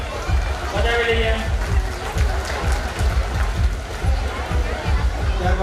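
Audience at an Ambaliya family reunion gathering clapping for donors, a sustained round of applause filled with crowd murmur and a speaking voice over it.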